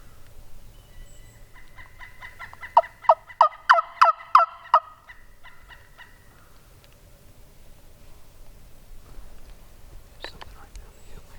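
A wild turkey gobbles in the woods, a quick burst of about six rattling notes from a moderate distance, followed by quiet rustling and a faint whisper nearby.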